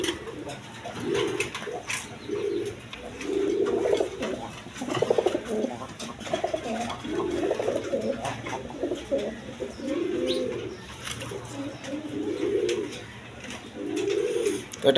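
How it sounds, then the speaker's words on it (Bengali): Repeated soft, low coos of large feather-footed pigeons come in rhythmic bursts close by, with faint chirps and background clatter between them. "একদম বিগ সাইজের চুরি মোজাওয়ালা গড়রা কবুতর"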